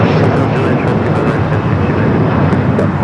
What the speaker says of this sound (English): North side arrival for the Dreamliner here today.